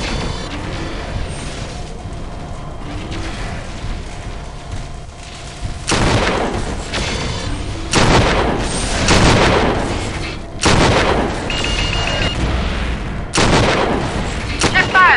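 Heavy mech weapon fire in Mechwarrior 4: Vengeance, a run of loud booming blasts and sharp gunshot bursts that arrive in clusters after a quieter opening, with radio chatter mixed in.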